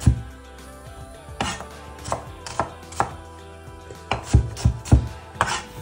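Garlic cloves chopped with a Zyliss chopper, a run of crisp, close chopping knocks, sparse at first and then quicker and irregular, with no talk.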